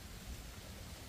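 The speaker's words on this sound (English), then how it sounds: "this wet, rainy weather." Steady rain falls in wet, rainy mid-60s weather among black trumpet mushrooms, a soft, even hiss of drops that stays faint and unbroken throughout, with no voices.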